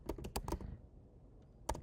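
Bursts of keystrokes on a computer keyboard, a quick cluster of clicks, a pause, then another sharp tap, close and fairly quiet with no talking.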